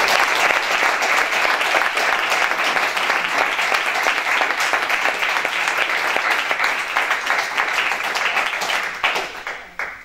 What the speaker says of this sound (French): Je propose de vous applaudir un instant.